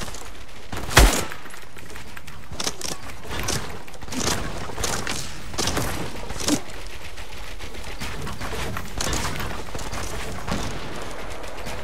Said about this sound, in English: Oh, he sniped him.